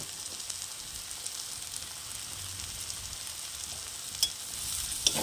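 Taro curry with salt and turmeric being stirred in a pan, giving a steady, quiet sizzle with faint scrapes and a couple of sharper clicks near the end.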